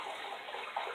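Beef broth and water poured into a stew pot, a steady close splashing pour that runs continuously and alone.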